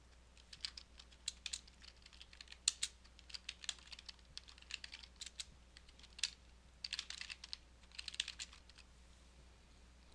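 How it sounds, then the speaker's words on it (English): Typing on a computer keyboard while entering data into form fields, heard as quick irregular bursts of close, crisp key clicks over a faint steady hum, with no voices. "simply type the information into the first field, and then press Tab on your keyboard"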